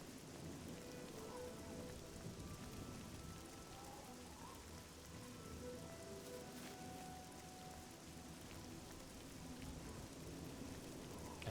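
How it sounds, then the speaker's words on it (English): Steady rainfall in the video game Oblivion, a constant dense hiss of rain on surfaces with faint low rumbles of thunder underneath, unchanging and fairly quiet throughout. "I greatly despise this rain and wish to wait 24 hours in the hopes that it will disappear."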